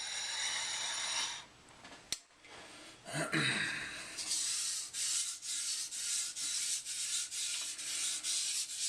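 Moritaka kitchen knife being sharpened, a brief blade clack then a series of close, rhythmic rubbing strokes on the stone, each a soft gritty swish repeating about every half second, with no talk over it.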